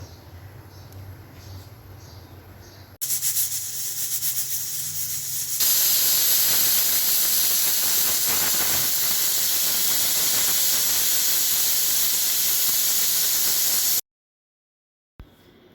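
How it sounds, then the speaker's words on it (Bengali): A pressure cooker on the stove, cooking goat meat curry, goes from a low bubbling hum to a sudden loud, steady hiss of escaping steam that keeps going for about ten seconds before stopping abruptly. "হ্যাঁ দুটো সিটি হয়ে গেছে এবার আমি দেখুন প্রেশার কুকারটা খুলছি"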